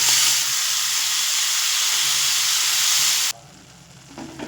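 Red amaranth greens cook with fried shrimp, onion and garlic over high flame, giving a loud, even steamy hiss that cuts off abruptly and leaves a quiet background with a few faint stirring sounds.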